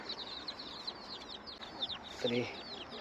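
Chickens cluck and chatter in a busy flock, with overlapping calls and one louder squawk near the end, against a steady background hum.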